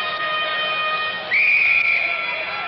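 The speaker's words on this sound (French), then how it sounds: "coup de sifflet de l'arbitre" A referee's whistle sounds at an ice hockey world championship match between Czechoslovakia and Sweden, a sustained shrill tone that rises and holds over steady crowd noise.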